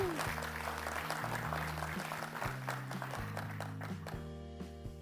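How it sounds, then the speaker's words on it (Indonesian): A gathering of HR professionals in Bali applauds, a moderate steady clatter of hands over background music with a steady beat. "tepuk tangan dulu untuk kita semua dong"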